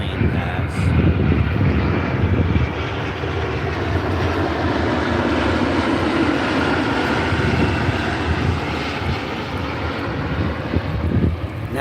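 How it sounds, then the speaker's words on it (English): Propeller airplane passing overhead, a steady broad engine roar that holds loud and even throughout, with faint wind-like rumble underneath and no speech. "I'm going to let this plane pass."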